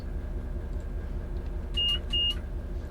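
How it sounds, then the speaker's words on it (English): Two short electronic buzzes, the guard's buzzer in Train Sim 2020 on an AP Class 68 train, sound in quick succession over a low, steady engine rumble. "So press C to return the guard's buzzer."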